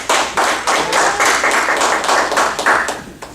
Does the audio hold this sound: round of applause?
yes